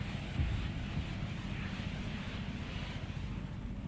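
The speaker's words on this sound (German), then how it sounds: "Und dieser eine Jet, der regt mich ein bisschen auf" A jet aircraft in Just Cause 3 roaring nearby, a brief, steady, fairly quiet low rumbling whoosh with broadband wind-like noise and no talk.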